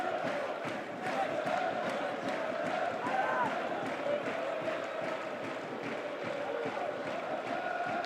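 The stadium crowd at the Portsmouth v Luton Town Championship match has gone quieter at the start of the second half, leaving a steady distant murmur beneath a commentator's talk.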